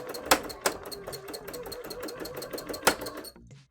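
An embroidery sewing machine stitches a cosplay panel, making a loud, close, steady mechanical whir with periodic sharp clunks and squeaks before stopping abruptly.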